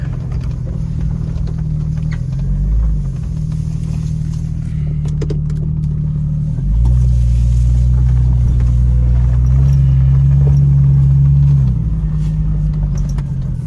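A 1999 Jeep Cherokee with a 4.0 engine idles loudly and close while being shifted into reverse; the low rumbling drone steps down in pitch partway through and settles into a heavier hum.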